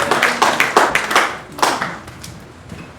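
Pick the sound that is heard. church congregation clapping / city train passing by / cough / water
church congregation clapping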